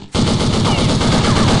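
Rapid automatic gunfire in Counter-Strike on the Office map, a loud, dense burst of shots that starts abruptly and runs continuously without a break.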